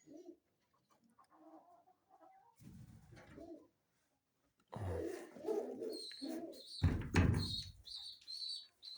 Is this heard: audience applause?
no